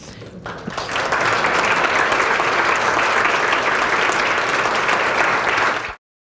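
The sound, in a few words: audience applause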